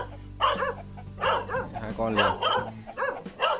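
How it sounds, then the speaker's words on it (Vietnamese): Dogs bark in short bursts, several close together, while a person talks over them. "Trong kia đã có xuất hiện một chú chó rồi."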